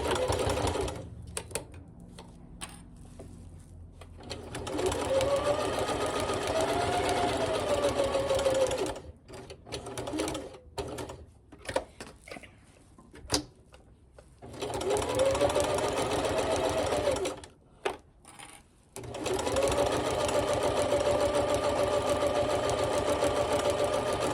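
A sewing machine stitching and back stitching a potholder, running in long steady close-up bursts of rapid mechanical whirring, broken by short pauses and stop-start stitching.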